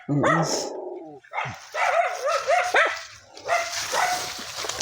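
Several dogs bark and yelp in quick overlapping bursts close by, with high yips and whiny cries mixed in, loud and agitated.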